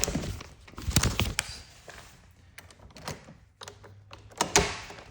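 A door in a house thuds shut during a walkthrough, with several soft knocks and clunks of wood amid faint rustling, fairly quiet and close by.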